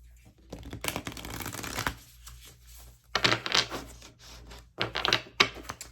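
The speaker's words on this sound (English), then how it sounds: "these cards are not shuffling well for me at all" Tarot cards are shuffled by hand in close, loud bursts of rapid riffling and flapping, three separate runs split by short pauses.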